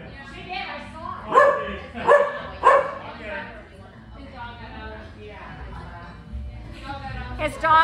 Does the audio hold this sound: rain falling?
no